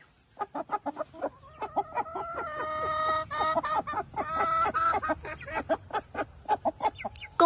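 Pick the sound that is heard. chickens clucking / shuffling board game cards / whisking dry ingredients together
chickens clucking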